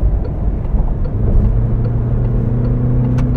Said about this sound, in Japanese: ちょっとアクセルを強めに踏みます。